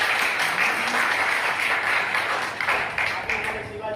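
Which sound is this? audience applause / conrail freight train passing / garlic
audience applause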